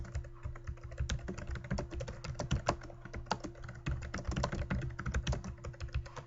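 Steady typing on a computer keyboard, a continuous patter of close, crisp key clicks with irregular rhythm and occasional louder taps, no voices.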